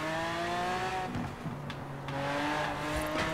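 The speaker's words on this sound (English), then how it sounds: "the acceleration is insane on this car, same as that Ferrari" A Mosler car in the Forza Horizon 4 video game accelerates on snow with a dirt tune, its engine droning loudly and rising steadily in pitch with a brief shift dip in the middle.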